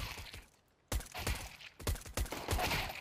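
Video game gunfire cracks out in loud bursts after a quiet start: dense, rapid volleys with short gaps between them, close and harsh.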